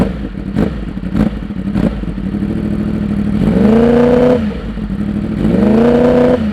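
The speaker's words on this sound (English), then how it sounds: "the bike will start its sort of sequence to warm it up. It'll start blipping the throttle in various ways." Ex-race Yamaha R1 motorcycle idling on an automatic warm-up cycle, its engine blipping the throttle in two clear rising revs over a steady rumbling idle, loud and close with no talk.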